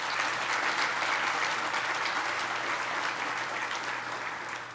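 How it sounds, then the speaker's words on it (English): Sustained, dense applause from a gala audience fills the room, many hands clapping evenly and loudly before tapering slightly toward the end, with a low steady hum underneath. "Let's give her another round of applause"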